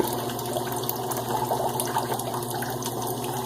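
Tap water runs steadily over a shaving brush during a head shave, a continuous close splashing rush with no talking.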